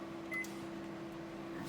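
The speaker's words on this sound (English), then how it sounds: "you opened the microwave by mistake, so you have to press start again." A microwave oven gives a single short, clear electronic beep as start is pressed, over a steady low hum, in a quiet kitchen.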